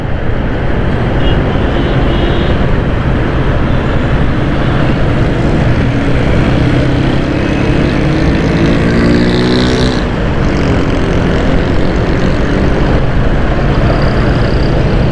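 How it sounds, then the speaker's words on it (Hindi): Occasional motorcycles and cars pass on a city road near Baloch Colony bridge, heard from a moving motorbike, under a loud, constant wind and engine roar, with one vehicle sweeping past near the middle. "इक्का दुक्का मोटरसाइकिलें गुजर रही हैं, वो देखें, इक्का दुक्का गाड़ियाँ गुजर रही हैं।"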